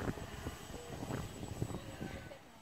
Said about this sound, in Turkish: drone'u şimdi biraz uzağa doğru götürüyorum